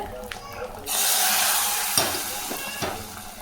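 Vadagam and curry leaves hit hot oil in a burst of loud, close sizzling that stays steady for a few seconds, with a couple of sharp spatters or clinks partway through.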